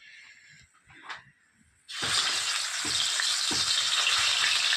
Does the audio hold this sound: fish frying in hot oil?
yes